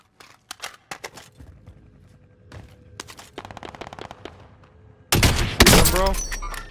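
Gunfire in the video game Call of Duty Warzone: sparse sharp shots and short bursts, then a loud sustained fusillade near the end, with players talking over it.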